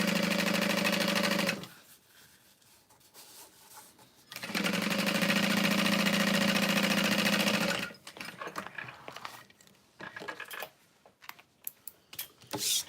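A sewing machine top-stitches waterproof canvas in two loud, steady bursts of rapid stitching, separated and followed by quieter stretches of handling and fabric rustling.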